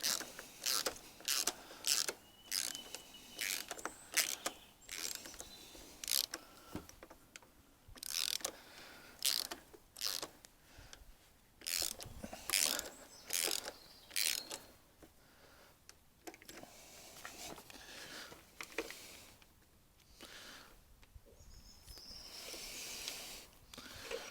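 A ratchet wrench tightens a crash bobbin bolt on a Yamaha YZF600 Thundercat, making quick, faint clicking ratchet strokes in irregular bursts throughout, close by.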